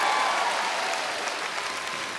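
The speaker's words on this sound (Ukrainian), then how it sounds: "Олександр Лещенко, ваші оплески за цей неймовірний танець" Dense, steady applause from a concert audience following a dance performance, filling the hall evenly and loudly for the full stretch with no talk over it.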